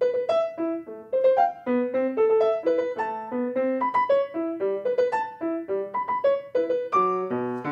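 A piano plays a jerky, bouncing tune of short stabbing notes with sudden jumps, mimicking a string of hiccups.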